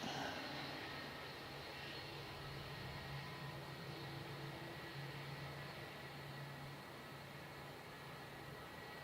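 A small single-seat aircraft moves along the runway in strong winds, its engine giving a steady, fairly distant drone with a constant hum that holds at an even level throughout, with no talk.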